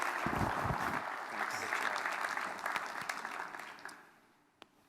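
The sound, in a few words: audience applause at an awards ceremony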